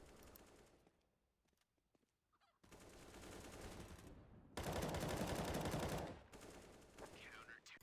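In Counter-Strike on the Inferno map, gunfire bursts ring out from the apartments: scattered faint shots at first, then sustained loud automatic fire in several rapid volleys.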